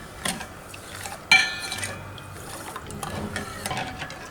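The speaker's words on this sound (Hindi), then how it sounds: "तो अब हम मुस्तकिल चमचा चलाते रहेंगे ताकि इसका शीरा नीचे पतीले से लगे ना" Spoon stirring sugar syrup in a cooking pot after a glass of water is added, with faint scraping and clinks of metal against the pot that come and go through the clip, one sharper clink near the middle.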